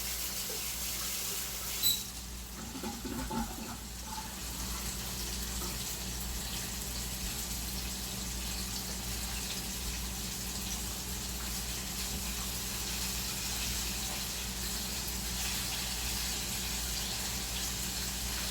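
Walleye and white bass fillets deep frying in hot oil, a steady broadband bubbling hiss that holds evenly throughout with a brief clatter near the start.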